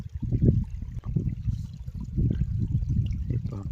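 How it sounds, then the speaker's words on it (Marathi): Shallow river water in a Konkan village, running low, burbles and gurgles continuously over stones, a soft, low, close rippling with no voices. "आता फक्त खळखळाटचा आवाज येतो"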